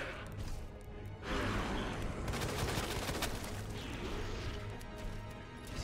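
Gunfire from the Resident Evil 2 Remake video game comes in rapid crashing bursts with dense, echoing impacts. The shots are loud and continuous, with game sound filling the whole stretch.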